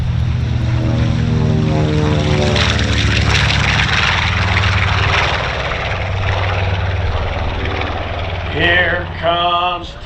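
A World War II-era propeller plane, the B-25 Panchito, roars through its takeoff run at an airshow event, a loud close droning engine with pulsing harmonics that slowly fades, followed by brief chirping whistles near the end.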